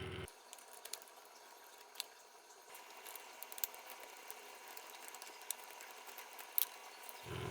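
A desk fan's motor is bolted back into its housing during a repair, with faint, sparse ratcheting clicks and small metallic ticks over a quiet background.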